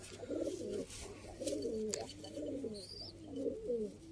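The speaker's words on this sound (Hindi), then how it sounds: "ये हैं दोस्तों रिजल्टेड कबूतर" Pigeons coo softly in repeated low, rolling phrases, close by at a pigeon market in Sialkot, with faint background noise and an occasional higher chirp.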